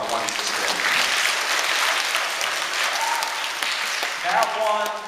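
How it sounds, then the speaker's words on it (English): Audience at a pilot kick-off event applauding, a broad sustained burst of clapping with a few voices rising near the end. "you should all give yourself a round of applause for the one you just did"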